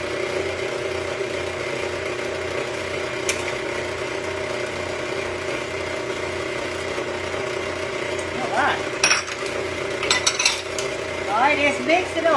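Pound cake batter stirred in a bowl with a utensil, soft scraping and clinking strokes over a steady background hum, the strokes growing busier toward the end, with no talking.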